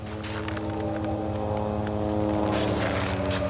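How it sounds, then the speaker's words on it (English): A propeller airplane drones steadily overhead in a dark wooded area, a continuous low engine hum with stacked tones holding at even loudness throughout, with faint rustles and night sounds around it. "That's the plane."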